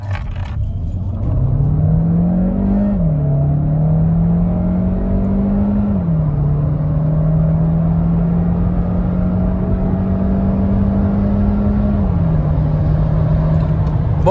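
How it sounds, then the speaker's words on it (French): An Audi A3 40 TFSI e hybrid's engine revs up hard under acceleration, pitch climbing with steady gear shifts, loud and continuous, heard from inside the cabin. "petit test d'accélération sur cette Audi A3 hybride"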